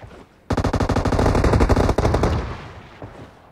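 Rapid shotgun fire in PUBG Mobile, a dense burst of closely spaced loud blasts lasting about two seconds, then a fading echo tail and a faint late thump.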